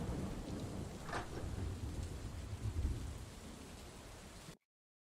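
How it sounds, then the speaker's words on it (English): Steady rain and rumbling thunder from a tabletop storm ambience play in a Warhammer Fantasy session, a low roar throughout with a brief brighter crack near the second mark before cutting off abruptly. "Got stormy all of a sudden."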